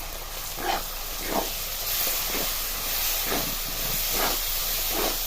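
Coconut paste and turmeric sizzle in a hot tempering of oil, giving a steady bright hiss broken by rhythmic swells as the mixture is stirred and sautéed, heard close with no talk.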